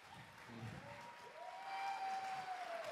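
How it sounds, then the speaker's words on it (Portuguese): Faint, distant applause from a hypnosis show audience for a band builds gradually, a soft steady patter of clapping with a thin tone running over it. "uma salva de palmas à nossa banda."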